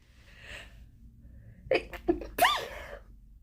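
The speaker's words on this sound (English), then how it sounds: "I'm gonna sneeze." A single close, loud sneeze bursts out after a quiet inhaling build-up, with a sharp explosive release and a short trailing gasp.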